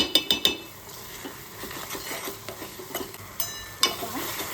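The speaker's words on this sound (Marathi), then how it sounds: "हलवत राहायचे।" Coconut filling for karanji is stirred in a pan with a metal spatula, making repeated scraping strokes and bright clinks against the pan over a faint sizzle.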